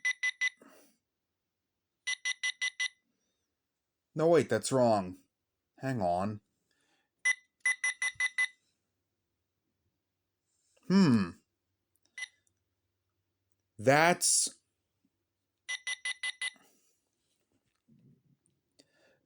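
A talking alarm clock from LS&S sounds its alarm, sharp repeated beep bursts alternating with short bursts of clock speech, loud and close, while a person talks briefly in between.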